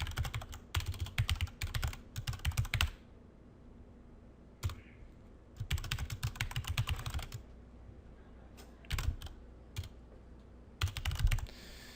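Someone types on a computer keyboard up close in quick flurries of clicking keystrokes, broken by short pauses and a few single taps, in a quiet room with no voices.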